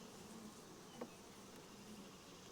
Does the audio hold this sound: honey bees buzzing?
yes